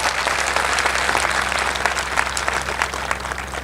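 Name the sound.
audience applause for Air India pilots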